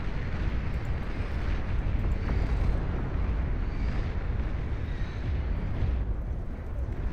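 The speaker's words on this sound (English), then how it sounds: "Tactical missile launcher taking out a big chunk of this base here as well." Tactical missile strikes tear through an enemy base in the strategy game Beyond All Reason, giving a continuous heavy roar of blasts and rumbling destruction, dense and low, with no pauses.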